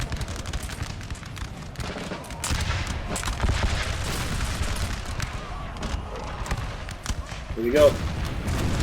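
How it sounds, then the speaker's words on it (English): Musket volleys and artillery scattershot in Napoleon Total War sound as a steady, crackling stream of distant shots and booms, with a brief voice speaking over the battle. "They're firing scattershot."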